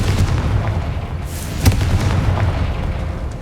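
In Hogwarts Legacy, a Confringo fire-blast spell lets off a single heavy explosive boom over a dense, rumbling game ambience. No voices are heard.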